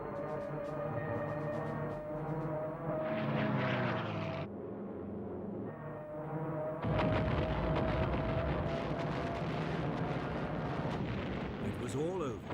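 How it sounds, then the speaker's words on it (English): Japanese attack aircraft dive on Pearl Harbor: a steady engine drone with rising and falling whine, then bursts of heavy firing and blasts, all under a narrator's voice. "As the Japanese aircraft dived into the attack"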